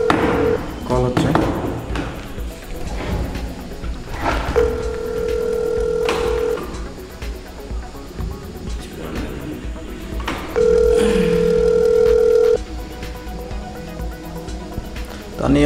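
A phone call's ringing tone sounds twice as long steady electronic beeps, close and clear, with people talking and laughing around and between the rings.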